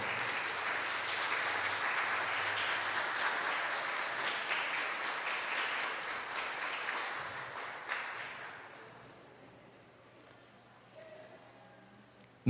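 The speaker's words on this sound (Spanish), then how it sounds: "Vamos a dar un fuerte aplauso al Señor." Steady, dense applause from a church congregation fills the room for about eight seconds, then fades to quiet with a few scattered claps at the end.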